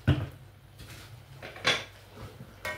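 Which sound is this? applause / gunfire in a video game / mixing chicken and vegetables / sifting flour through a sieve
mixing chicken and vegetables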